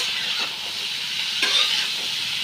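Eggplant frying in a pan, a steady close hiss and sizzle of hot oil with faint stirring, no talking.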